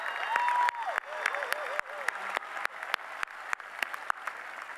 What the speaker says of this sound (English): Another round of applause for Shadice.